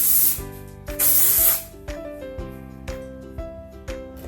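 Texture spray misted onto curly hair extensions in two long, close, loud hissing bursts, followed by quieter short spritzes and soft taps over faint music.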